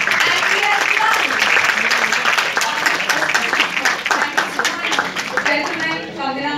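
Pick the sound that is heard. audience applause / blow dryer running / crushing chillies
audience applause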